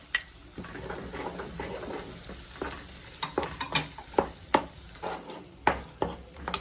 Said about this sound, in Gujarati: એ શેકાઈ જાય ત્યાં સુધી તેને હલાવતા રહીશું।